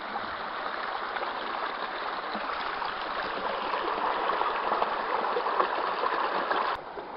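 Water swirls and sloshes in a gold pan, close and continuous like a small stream, holding steady for several seconds before dropping off suddenly near the end.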